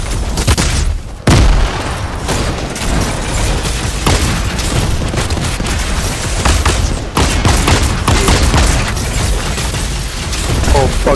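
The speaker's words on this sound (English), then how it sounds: "I'm throwing grenades." Grenade explosions in a video game firefight: loud booming blasts, one sharp burst early on, over continuous dense gunfire and battle noise.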